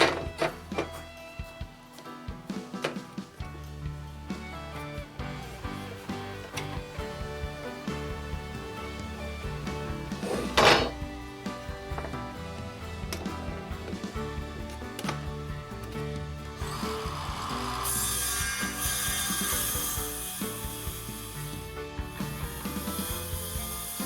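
A saw trims the snipe-marked end off a wooden board square to a line, cutting with a steady, continuous mechanical rasp close by, briefly louder near the middle and brighter and hissier toward the end.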